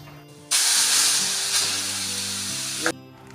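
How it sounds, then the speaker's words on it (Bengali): Black mustard seeds hit hot mustard oil left from frying fish and burst into a loud, bright sizzle with faint pops. It holds steady for a couple of seconds, then cuts off abruptly. "তেলের মধ্যে কালো সর্ষেটা দেওয়ার পরে যখন দেখবে সর্ষেটা ফেটে ফেটে যাচ্ছে"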